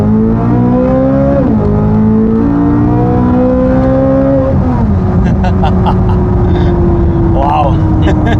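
Matte black Corvette Z06 with Z07 package accelerating at full throttle, a loud, close engine roar climbing in pitch through successive gear changes and then settling into a sustained drone, with faint voices underneath.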